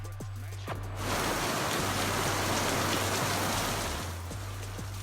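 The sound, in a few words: heavy rain from tropical storm Alberto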